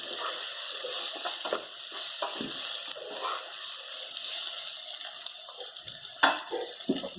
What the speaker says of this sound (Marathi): टोमॅटो दोन मिनिट त्यात फ्राय करून घेऊया